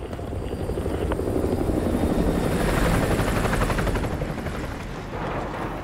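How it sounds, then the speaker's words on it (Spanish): An enemy helicopter in Call of Duty: Modern Warfare 2 Remastered patrols overhead, its rotor thudding loud and continuous, rising and then easing slightly as it passes. "Un helicóptero enemigo patrulla el perímetro."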